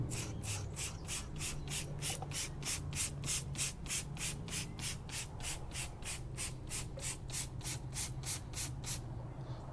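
A very stiff bristled brush scrubs Bowden's Own Down & Dirty tyre cleaner into a car tyre, with rapid rhythmic bristly strokes repeating about three times a second for several seconds, close and loud with no talking.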